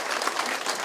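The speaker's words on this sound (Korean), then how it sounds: "큰 박수 한번 보내주시죠." A seminar audience gives a brief, full burst of clapping for a guest being introduced, dense and close throughout.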